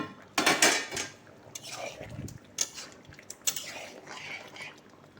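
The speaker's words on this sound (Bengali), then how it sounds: "ঢাকনাটা সরিয়ে একবার দেখে নিচ্ছি।" A metal lid comes off a cooking pot of chicken and potato curry with a few clanks and scrapes, followed by softer clinks and bubbling, close by in a quiet kitchen.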